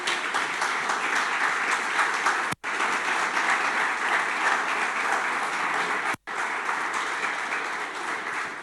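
Steady, dense applause from a large church congregation fills the whole stretch, cut by two abrupt brief dropouts.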